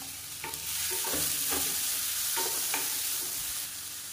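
Onion and tomato sautéing in a pan for chutney, a steady close sizzle broken by repeated scraping and clinking strokes of a spoon every half second or so, with no talking.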